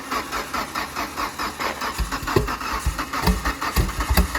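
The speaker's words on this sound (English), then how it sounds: "let's hear Wally's Evo start up" A Mitsubishi Evo engine cranks and fires up, the starter's rapid rhythmic churning giving way to a lumpy, pulsing idle close by.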